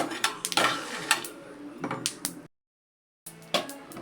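Dry-roasted peanuts, toasted without oil, rattle and clatter in a pan in irregular shaking bursts, close and crisp, with a brief silent gap before the rattling resumes.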